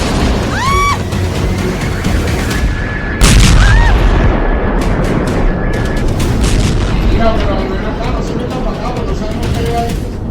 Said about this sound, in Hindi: वेनेजुएला में हुए एक के बाद एक 7 जगहों पर बड़े धमाके।